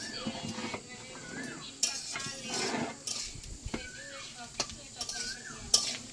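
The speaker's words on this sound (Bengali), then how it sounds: "এই দেখেন নারকেল এনে ভাজ দিছে" Coconut fried and stirred in a pan gives a gentle sizzle broken by repeated clinks and scrapes of a utensil against metal, with people talking in the background.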